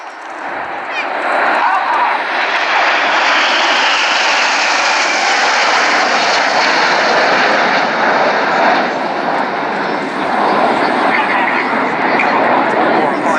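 Red Arrows jets fly an air show display at RAF Cosford in 2016, their engines a loud, continuous roar and rumble sustained throughout while a commentator speaks over the noise.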